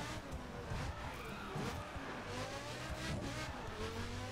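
A race car in The Crew roars along continuously, engine droning with shifting revs and occasional tire scrub, close and steady with no voices.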